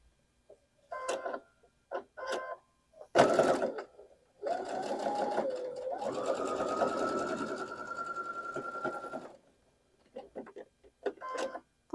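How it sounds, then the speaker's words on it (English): A sewing machine stitches quilt block pieces for a Dutchman Puzzle block, running steadily for about five seconds between short bursts of handling noise and brief clicks, close and fairly loud. "And let's go sew this down."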